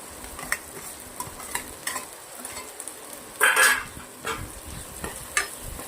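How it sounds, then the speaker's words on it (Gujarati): Finely chopped onions sautéing in hot oil for a chana chaat masala, a steady low sizzle broken by intermittent scraping stirs, with one louder clatter of spoon against pan midway. "સરસ મજાની ડુંગળીને તેલના અંદર શેકી લેવાની છે"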